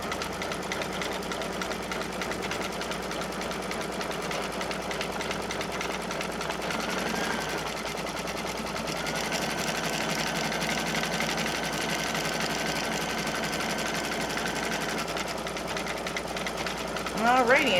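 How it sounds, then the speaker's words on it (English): An embroidery machine stitches a zippered pouch held in the hoop, running continuously with a rapid mechanical chatter and steady hum, close and loud throughout, ending with a short burst of higher sounds. "it's going to stitch all the way across"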